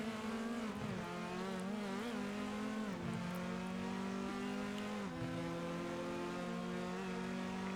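Orange Dazzle Elantra front-wheel-drive race cars in the RENNSPORT racing game at Road Atlanta: close, sustained engine whine with pitch climbing and dropping through gear shifts, two cars droning together without pause.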